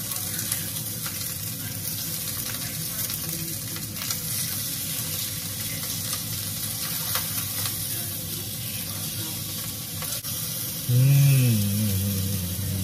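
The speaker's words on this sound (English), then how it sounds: "I'm grilling the steak now" Steak sizzles on a home grill with a continuous moderate hiss and crackle, joined near the end by a short low hum or rumble.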